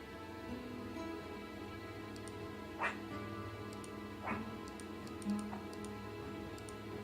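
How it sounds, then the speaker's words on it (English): Short dog barks added to a video game sound out as three quick, faint yips, spread over several seconds above a steady background hum and light ticking. "Alright, let's put some barking in."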